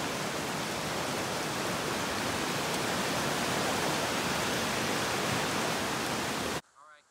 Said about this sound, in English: we are at Long Creek Falls